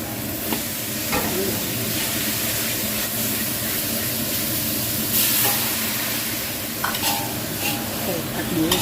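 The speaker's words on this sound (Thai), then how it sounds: "ผัดหมูลงไปให้หมูใกล้ๆสุกก่อนค่ะ" Minced pork is stir-fried in a hot pan. A continuous loud sizzle fills the scene, broken now and then by scraping stirring strokes, with no talking.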